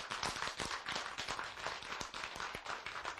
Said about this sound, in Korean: 박수 한번 쳐세요.